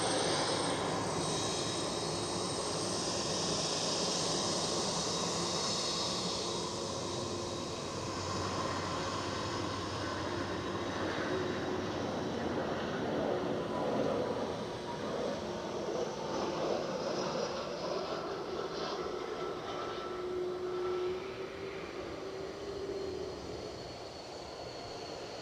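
EasyJet airliner arriving at Edinburgh Airport, heard as a faint, distant sustained engine whine and rumble with shifting tonal hums, fairly even in level across the whole stretch and without voices.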